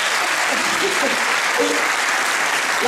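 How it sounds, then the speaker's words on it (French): Audience at the Italofolies 2024 singing event applauds, a dense, even roar of many hands clapping loudly and continuously, with a brief voice speaking over it. "Un applaudissement, s'il vous plaît."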